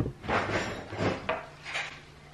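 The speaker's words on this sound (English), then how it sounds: "I'll put my dishes away." Dishes are put away in a home, a few soft knocks and clatters of items and cupboard movement spaced about half a second apart, faint and close with no talking.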